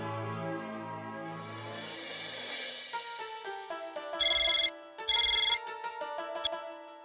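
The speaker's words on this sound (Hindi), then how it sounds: "बाघा को फोन करके पूछ ले" A phone call is placed, with a musical tune followed by electronic ring tones that pulse twice, loud and close, with no talk over them.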